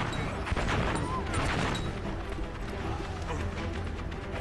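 A grenade explodes against a rotor during a boss fight in Valiant Hearts: The Great War, heard as a dense, rumbling blast inside a continuous wash of battle noise and distant gunfire.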